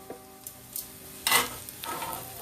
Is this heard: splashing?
no